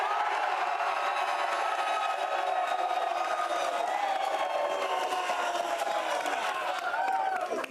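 A large road show crowd roars steadily for the full stretch, a dense wash of cheering and shouts with whoops rising near the end, loud and continuous with no talk standing out.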